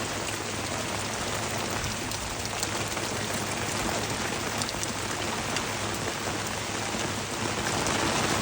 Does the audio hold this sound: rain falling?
yes